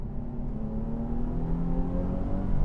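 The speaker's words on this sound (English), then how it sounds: "I'm not sure if you guys can hear the downshifts" An automatic Nissan 350Z sports car drops through its gears, the engine note droning and rising in pitch from inside the cabin, steady and moderately loud with no talk.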